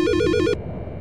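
Telephone ringing in the Silent Hill: Shattered Memories video game, a loud electronic warbling ring in rapid pulses that cuts off abruptly after half a second, leaving a low ambient hum.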